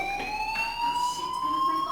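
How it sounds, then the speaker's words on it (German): A school fire alarm in the video game Life Is Strange rings with a steady, piercing electronic tone that holds continuously, loud and close, with no talking. "do you hear that fire alarm?"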